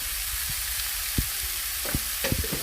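Chopped banana flower and onion frying in a pan, a steady soft sizzle broken by a few light clatters and stirring knocks, close by and fairly quiet.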